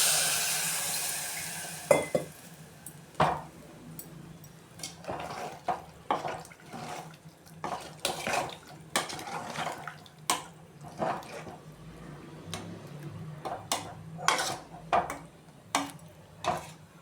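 Water is poured into a pan of Tamil kara kulambu with vegetables, giving a faint splashing and sizzling, followed by repeated clinks of a spoon stirring against the pan, moderately close with no talking.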